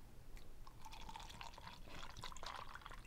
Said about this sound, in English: Go ahead, pour a shot.